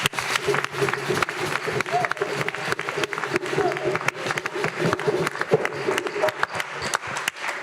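An audience claps for event panelists at a church farm gathering, steady mid-level applause running the whole stretch with some voices mixed in.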